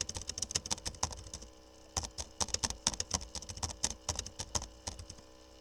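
Someone types commands on a computer keyboard in R statistical software. Quick, irregular key clicks come in bursts, close and fairly quiet, with short pauses between runs and no talk.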